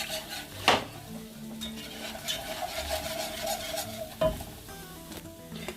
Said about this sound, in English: And you got to constantly stir.